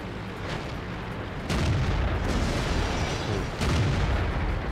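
Two heavy, booming tank gun shots from a Chinese Tier 10 medium tank battle in World of Tanks, each a loud broad blast with a rumbling tail over continuous engine and battlefield noise.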